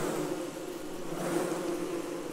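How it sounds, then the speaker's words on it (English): Bees buzzing in the survival video game Don't Starve Together, a steady mid-pitched insect drone holding at an even level throughout with no talk over it. "Did you notice that there's some bees around?"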